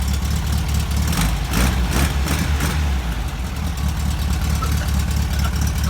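A Volkswagen Kombi's air-cooled engine runs at a steady idle, a low throbbing rumble close by and alone with no talk, with a few brief revs or knocks early on.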